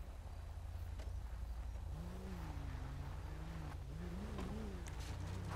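A pickup truck engine in GTA 5 revs hard while driving off-road, a steady loud drone with rising and falling pitch sweeps as the throttle climbs and eases, continuous throughout with no talk.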